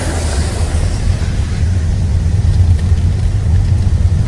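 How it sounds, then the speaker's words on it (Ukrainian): A small tourist road train rumbling along a road near the Zhenetskyi Huk waterfall in the Carpathians, a steady loud low engine drone with no voices. "Дивіться, кстати, паровозик їде."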